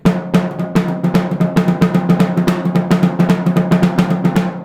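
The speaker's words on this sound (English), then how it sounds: "He had that kind of shuffle effect" A drummer plays a sticking pattern with a swing shuffle feel, evenly spaced sharp close hits in a loping triplet rhythm, with no voice over it.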